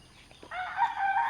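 A single rooster crows briefly, a bright drawn-out call rising out of near silence, fairly close.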